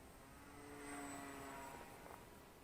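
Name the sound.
Volantex P51D Mustang RC plane flying, propeller engine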